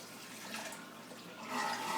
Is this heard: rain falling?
no